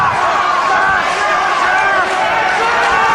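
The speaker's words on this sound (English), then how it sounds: "Some of the crowd looking for a tap out, some trying to cheer him on to get to the ropes." A wrestling crowd at an IWA Mid South show roars and shouts during a leg hold, a loud, continuous wall of mixed voices with no pause.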